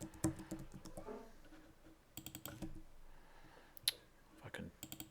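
Typing on a computer keyboard while writing code, with irregular bursts of clicky keystrokes separated by pauses, close and moderately loud, with a faint voice murmuring in the background.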